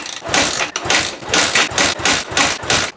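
A KTM 450 EXC dirt bike engine that sat unused for six years runs roughly after its idle is turned up, loud and close, pulsing in uneven bursts with short dips between them.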